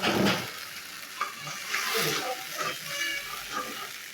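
Spice paste fries in oil in a village kitchen while a tilapia curry with potato and greens is being made, producing a moderate sizzle with scattered clinks and stirring scrapes, close by, and brief talk near the end.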